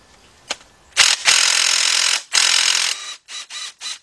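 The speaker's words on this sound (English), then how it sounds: "We got our cordless impact with our 3/8 drive adapter up here." A cordless impact wrench with a 3/8 drive adapter works loose an axle nut on a 2007 Nissan Altima 2.5S, giving loud close mechanical bursts, two longer runs followed by several short rapid hits.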